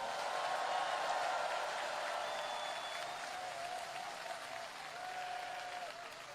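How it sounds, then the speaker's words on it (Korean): Crowd applauding at an outdoor political rally speech in Ansan, Gyeonggi, a dense sustained clapping from many people at a distance with faint cheering and whistles mixed in, easing slightly toward the end. "격려의 박수 부탁드립니다."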